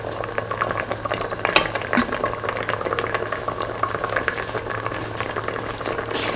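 Eggs simmer in a mint, potato and coconut milk stew, with a continuous bubbling and popping boil, close and moderately loud, and an occasional brief stir.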